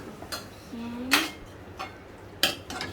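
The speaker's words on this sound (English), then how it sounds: "Now we will mix it." A spoon clinks and scrapes against a bowl while Chinese bhel snack ingredients are mixed, a few sharp taps spaced irregularly over a quiet background.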